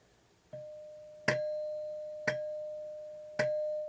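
Four chime strikes ring out from a restored 1960s doorbell, each a clear metallic tone that lingers and decays slowly, heard close and alone in a quiet room with no talking.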